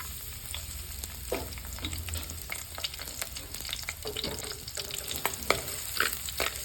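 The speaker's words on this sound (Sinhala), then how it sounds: "මුලින් අපි කරන්නේ මේකට තෙල් ටිකක් දාගමු රත් වෙන්න. මුලින් අපි මේකට සුදු ලුණු ටික දාමු." Garlic fries in hot oil in a pan, giving a steady, close crackling sizzle with scattered pops and light stirring clicks throughout.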